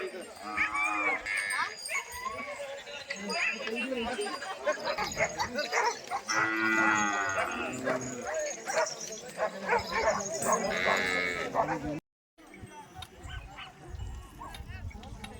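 Deoni bulls and cattle at a livestock show and bull market in Deoni, Latur, low and moo loudly and repeatedly, while dogs bark and a crowd talks throughout in a busy outdoor scene.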